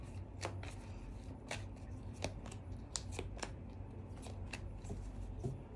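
Tarot guidance cards are shuffled by hand in a steady run of soft, papery riffles and flicks, close and fairly quiet over a low background hum, with no talking.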